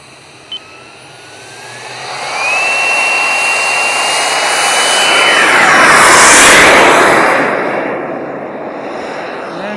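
A BVM T33 model jet on its maiden flight takeoff: a turbine whine rises sharply to a loud roaring rush as it passes near, then fades into the distance.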